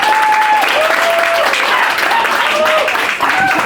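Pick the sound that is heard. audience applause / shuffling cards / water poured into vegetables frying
audience applause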